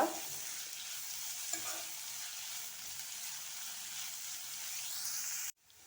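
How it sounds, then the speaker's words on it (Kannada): Pumpkin pieces fry in coconut oil with a soft, steady sizzle and occasional stirring, faint and continuous for several seconds before cutting off abruptly. "ಹಾಗೆ ನಾನು ಕೊಬ್ಬರಿ ಎಣ್ಣೆಯಲ್ಲಿ ಫ್ರೈ ಮಾಡ್ತಾ ಇರೋದು"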